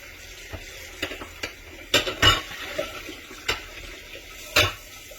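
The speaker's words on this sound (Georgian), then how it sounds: "მოუშვებ ახლა წყალს და წყალთან ერთად ესე გადაატარებ" A cooking pot is scrubbed under running tap water, with a steady low wash of water broken by repeated scraping and clattering knocks of metal, close by and without speech.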